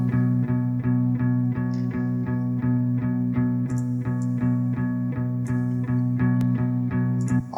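A muffled, palm-muted electric guitar chugs in a steady, even rhythm, low and dull in tone, with faint higher accents over it.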